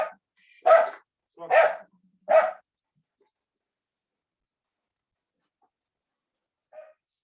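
A dog barks three times in quick succession at close range, followed by a faint single yip several seconds later, with near silence between.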